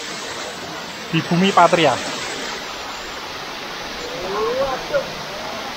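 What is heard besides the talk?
Sirah Kencong waterfall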